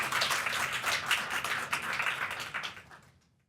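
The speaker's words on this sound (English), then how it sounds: "So please give a round of applause for Dr. Michelle Tarver, Dr. Tom Keane, and Jaco" Audience applause at a conference presentation, steady dense clapping for a few seconds that fades out toward the end, with no talk over it.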